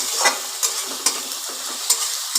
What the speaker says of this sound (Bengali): কাঁচা গন্ধটা না যাওয়া অবধি একটু ভেজে নিচ্ছি মশলাটাকে